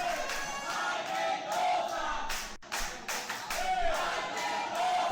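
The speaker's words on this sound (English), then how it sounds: "The crowd now chanting for the sensei of Espíritu Pro Wrestling Dojo, Mike Mendoza" Wrestling crowd at the Broken by Glory main event chanting for Espíritu Pro Wrestling Dojo head Mike Mendoza, a steady rhythmic mass of voices with scattered claps and thuds, loud and continuous throughout.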